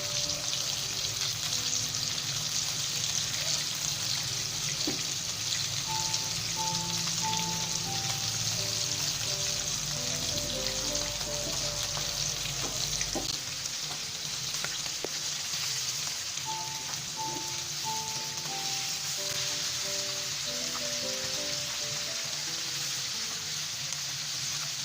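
Needlefish frying in a pan, a steady broadband sizzle that runs continuously, fairly close and even in level, with faint tonal background sounds drifting in and out.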